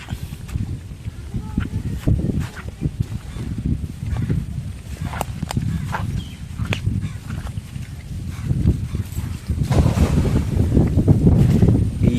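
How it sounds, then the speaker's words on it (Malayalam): Strong gusty wind buffets the microphone outdoors while fishing by the water, with a low roar of water and waves behind it, rising louder toward the end. "കാറ്റുമാണല്ലേ ഭയങ്കര"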